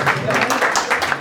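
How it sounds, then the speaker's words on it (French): Audience applauding for Jean-Pierre Roy at an event about Haiti and the Paris Olympic Games, a steady wash of claps filling the short clip at moderate level with a voice audible over it. "je vous encourage à applaudir M. Jean-Pierre Roy"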